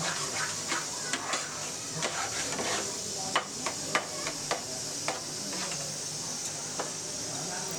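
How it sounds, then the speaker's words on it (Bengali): Raw mango pulp for spicy-sour aamsatta being stirred in a cooking pan, a soft steady sizzle broken by sharp scraping and tapping clicks of the spoon against the pan at irregular intervals. "ক্রমাগত নেড়ে যেতেই হবে যতক্ষণ না জলটা আরও সুন্দর টেনে যায়"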